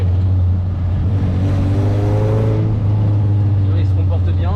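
Suzuki Samurai 4x4 being driven, a steady droning engine hum with a rising whine as it moves, heard up close from inside the vehicle.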